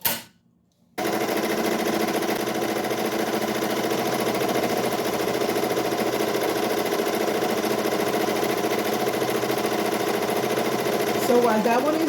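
Ricoma EM1010 embroidery machine stitching on black fabric: a steady, fast mechanical rattle that runs unbroken after a brief quiet start, loud and close.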